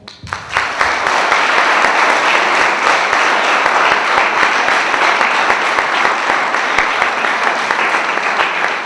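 A large audience applauding at an Armenian Vartanants feast-day gathering, sustained dense clapping starting abruptly and continuing loud and steady throughout.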